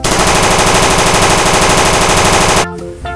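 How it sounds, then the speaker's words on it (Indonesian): A toy AK-47 fires a loud, dense electronic machine-gun burst of rapid repeated shots that cuts off abruptly after a few seconds, followed by faint handling noise. "AK-47."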